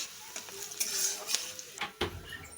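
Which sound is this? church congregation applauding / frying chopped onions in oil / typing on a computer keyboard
frying chopped onions in oil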